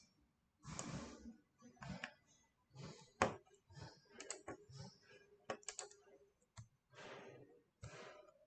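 Quick, irregular bursts of keyboard typing and clicking, close by, with a voice speaking intermittently over the taps.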